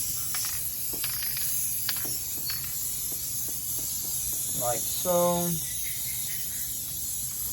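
A spray can hisses in a steady, continuous stream onto a tufted rug, with a brief squeaky rattle partway through, while a person speaks briefly.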